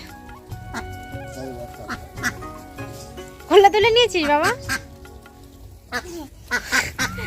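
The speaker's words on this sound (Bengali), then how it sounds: "এসে দেখো হাঁসগুলোকে খেতে দিচ্ছে" Several ducks quack loudly and excitedly nearby while being fed, bursts of rapid calls, while a person speaks briefly over them.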